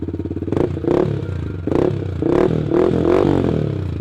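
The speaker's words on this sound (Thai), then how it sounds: "เรามาฟังเสียงท่อแต่งกันหน่อย อ่าเสียงทุ้มๆนุ่มๆเลยนะฮะ" A 2022/23 Yamaha MT-15 motorcycle with an aftermarket exhaust idles close by with a deep, throaty note, then revs up several times in rising bursts before settling back.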